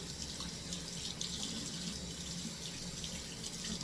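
Tap water streams steadily into a sink as hands rinse off black hair dye, a close, continuous rushing splash with slight shifts as the hands move through the flow.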